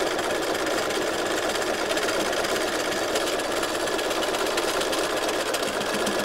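A sewing machine stitches concentric circles on fabric with the same stitch selection, giving a close, steady, unbroken mechanical whir with no one talking over it.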